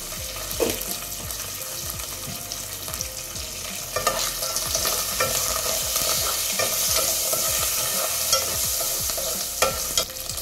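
Lentils sizzle and fry in hot oil in a pan while being stirred, for a spicy cabbage dish, with steady crackling, scraping of the spoon and a few sharper clinks throughout.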